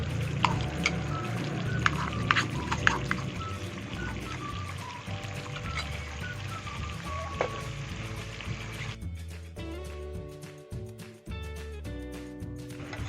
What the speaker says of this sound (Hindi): तो अब जाके यहाँ लहसुन अदरक डाल रहे हैं